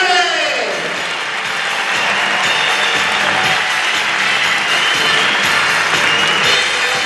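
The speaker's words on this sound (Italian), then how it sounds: "Lo voglio sentire più forte quell'applauso!" Sustained audience applause and crowd noise at a blood-donation benefit evening in Montebelluna, loud and steady throughout with no pauses.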